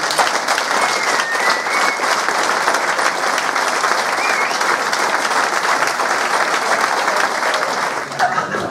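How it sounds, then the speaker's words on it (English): A large crowd at a football club's player of the year awards night gives the players a long, loud, continuous round of applause, dense clapping from many people with a faint murmur underneath, tapering slightly at the end. "we all give the players a big round of applause"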